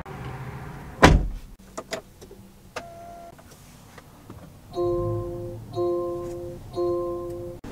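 A 2023 Land Rover Defender X door opens with a loud sharp clunk, followed by a few lighter clicks and then a repeating electronic chime sounding three times, close by with no talking.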